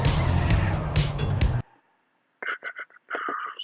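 Trackmania Stadium cars racing online, a loud burst of engine roar and tire noise for over a second that cuts out abruptly, then after a silence, several short fainter bursts of game sounds.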